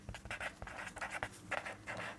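Marker or chalk strokes scratching across a classroom board while a math area problem is worked out, a steady run of short, dense writing strokes close up with no talk.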